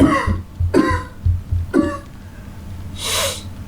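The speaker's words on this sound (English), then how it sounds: "My throat feels really ticklish today and I'm coughing" Several harsh coughs come in quick succession, close and loud, followed by a breathy exhale or sniff, with no talking.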